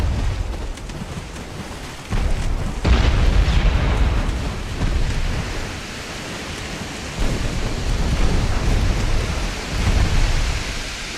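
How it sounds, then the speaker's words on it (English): Artillery salvo in a war video game, heavy rumbling booms rolling in several waves over a dense, continuous low roar, loud and distant-sounding. "One more salvo should do it."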